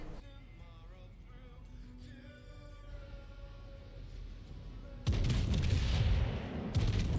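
Heavy naval gunfire in the World of Warships game, a loud booming salvo that erupts after several quiet seconds of ambient tones and rumbles on, with a second blast near the end.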